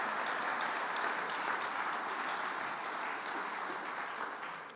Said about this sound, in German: Ich bitte um einen kleinen Applaus